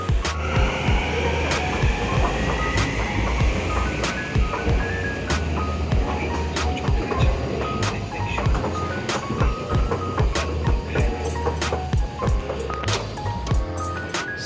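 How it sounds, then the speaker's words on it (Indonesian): Train at Putrajaya Sentral railway station in Malaysia, a steady loud rumble of rail transport with repeated sharp clicks and a rising whine, continuous throughout. "Sudah tiba di stasiun Putrajaya Sentral. Lepas itu tukar ke tren MRT Putrajaya."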